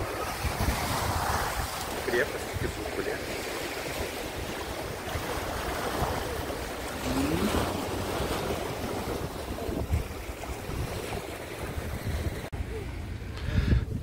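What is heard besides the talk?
sea waves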